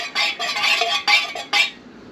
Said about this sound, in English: Now, give it a good stir.